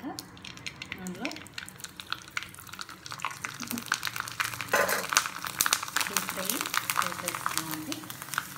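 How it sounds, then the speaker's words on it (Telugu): Sun-dried vadiyalu deep frying in hot oil, a busy crackling sizzle that grows denser partway through, close and steady, with a voice talking over it at the start. "ఈ విధంగా డీప్ ఫ్రై చేసేసుకున్నాం వడియాలు"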